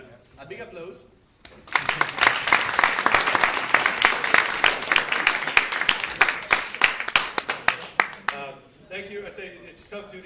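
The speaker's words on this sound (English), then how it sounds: "A big applause." Loud, sustained audience applause at a tech talk event, with dense clapping that swells for several seconds and then tapers off, with brief speech before and after.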